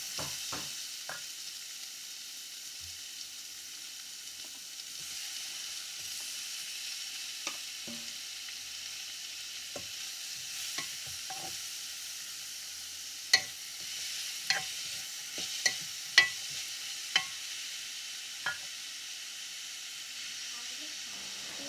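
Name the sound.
tempering spices frying in a pan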